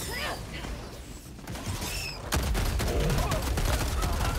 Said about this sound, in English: I'm trying to shoot it.